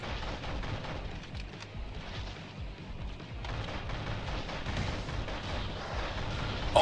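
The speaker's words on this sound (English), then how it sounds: "Gatling drones that are deployed to fight along the mech. They fire in bullets at a high speed." Gatling drones in the Heavy Storm Shadow mech game pour out rapid, continuous bullet fire, a dense rumbling barrage of shots and blasts at moderate volume, steady for several seconds with no speech.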